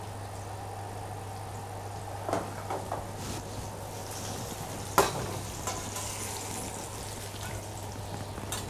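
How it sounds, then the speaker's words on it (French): Pears and quinces cook in a pan for a crêpe filling, giving a faint, steady sizzle over a low constant hum, with a few soft stirring clicks scattered through. "La cuisson des poires très rapide. Très rapide. Celle des coins un peu plus longue."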